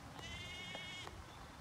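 A farm goat gives a single short, faint bleat from a distance over steady outdoor background noise.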